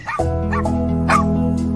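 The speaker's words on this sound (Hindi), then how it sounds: "जब उन्होंने पिल्ले की कूकू की लगातार आती आवाज को सुना तो पीछे मुड़कर देखा।" A small puppy whimpers in short, repeated high whines and yips, close and fairly loud, over a steady sustained tonal background.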